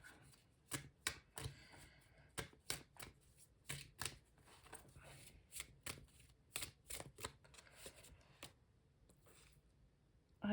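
Oracle cards shuffled by hand in a quiet room, a steady run of crisp riffling bursts and soft slaps repeating for several seconds, close and fairly loud with no talking.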